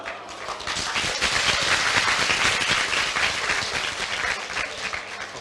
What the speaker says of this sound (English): That's the first clap of my talk.